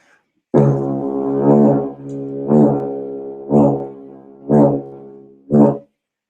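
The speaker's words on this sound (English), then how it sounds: "Now with the didge, it sounds like this." Deep, resonant didgeridoo drone played in five separate blown phrases, the first long and the rest shorter, each swelling and fading, with silence between.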